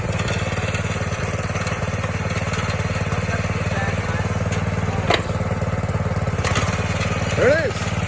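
A 1970 Sears 10XL garden tractor engine runs steadily and fairly close throughout, a continuous loud drone with a brief squeal near the end.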